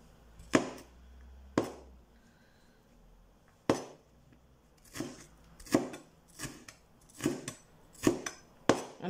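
A knife chops food finely on a cutting board for homemade cheese and tomato soup, about ten crisp, separate thuds spaced irregularly and close up in a quiet room, with no talking.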